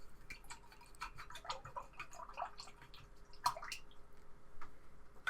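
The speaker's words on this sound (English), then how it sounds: "Just washing my brush." A paintbrush is swished and rinsed in a container of water, producing quiet, irregular splashes, drips and light clinks against the pot, close by but faint.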